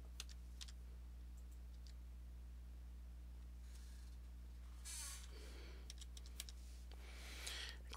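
A radio ID number for a Starlink radio is typed on a computer keyboard, heard as scattered light key clicks and a few quick bursts over a steady electrical hum, faint and close.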